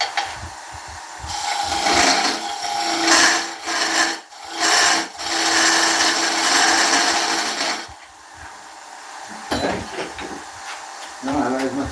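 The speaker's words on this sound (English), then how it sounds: "I'm going to get it actually hollowed out." Woodturning lathe tool hollowing out a spalted beech piece, with rough scraping and rasping cuts in uneven bursts separated by brief pauses near the end.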